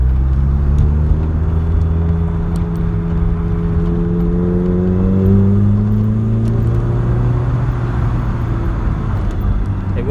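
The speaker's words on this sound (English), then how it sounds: "you're going to hear the exhaust up here" A 1984 Vauxhall Cavalier's engine drones steadily with rising pitch as it pulls uphill under load, its exhaust note continuous and close, with road noise underneath.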